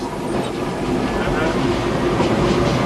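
A locomotive-hauled train runs on rails, a steady loud rumble with faint clickety-clack throughout, heard from close by, apparently from on board, with no break in the noise.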